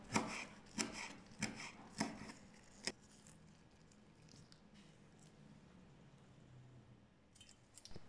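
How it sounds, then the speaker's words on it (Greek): Parsley being finely chopped with a knife on a board: a handful of sharp, evenly spaced knocks at first, then quieter soft cutting and shuffling, closing with a few light taps. "Και τέλος, ψιλοκόβω και το μαϊντανό."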